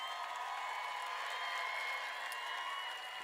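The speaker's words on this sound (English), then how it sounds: "One more big round of applause for all of our graduates." Graduates of the Hackettstown High School Class of 2024 receive a steady wash of applause from a large ceremony crowd, faint and distant, holding evenly for the whole stretch.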